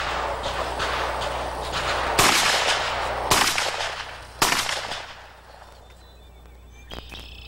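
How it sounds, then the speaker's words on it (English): Three sharp, loud pistol shots ring out roughly a second apart at an action pistol championship on an outdoor range, each with a short echoing decay over steady background noise, followed by a faint distant pop. "Three shots in 6 seconds."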